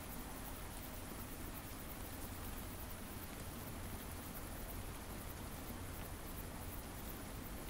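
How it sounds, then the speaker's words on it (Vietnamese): Steady, even rainfall in the video game Elaria, a dense continuous hiss at constant loudness with no pauses. "Mưa kìa."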